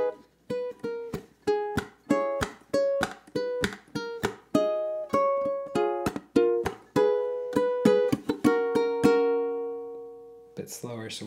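A ukulele plays a melodic theme at a slower pace, with evenly spaced plucked notes and chords ending on a sustained ringing chord, close and clear, followed by a brief burst of speech at the very end.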